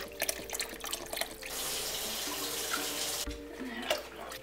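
Chicken broth and water poured into a soup pot, a steady rushing pour under faint background clatter, close and continuous through the middle of the clip.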